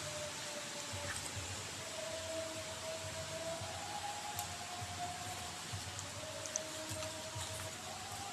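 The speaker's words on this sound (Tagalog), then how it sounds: "ulan na naman" Steady rain falls across a farm, a dense hiss of drops on surfaces with occasional louder individual patters, continuous and fairly close with no voices.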